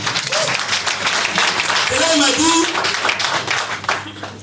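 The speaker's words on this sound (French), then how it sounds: "Applaudissez pour le technicien." Audience applause for a technician at a training session, dense clapping from a crowd lasting several seconds, with voices talking and calling out over it before it fades.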